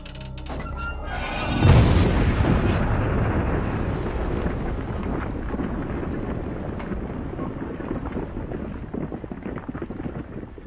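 A candy cane in a mouse trap snaps with a sudden loud crack, followed by a dense, sustained clattering rumble that slowly fades over about nine seconds.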